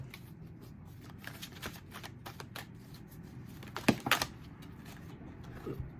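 Tarot cards are shuffled close by with soft, rapid riffling and flicking, building to a sharper burst of shuffling midway before settling back to quiet handling.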